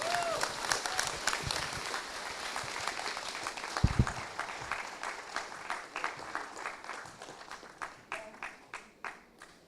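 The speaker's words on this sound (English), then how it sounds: "Give her a bigger round of applause." Applause from the crowd at an International Women's Day celebration after a speech, a wide, sustained roar of clapping that swells and then thins into scattered individual claps toward the end.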